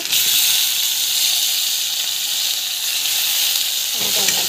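Tomatoes sautéing in a hot pan, a loud, continuous hissing sizzle with a brief stir near the end.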